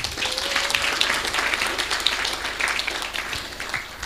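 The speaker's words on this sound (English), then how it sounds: "I request you to clap for all of us." Steady applause from a crowd, a dense even patter of many hands clapping that holds for a few seconds.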